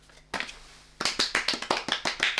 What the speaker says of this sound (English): I like the applause.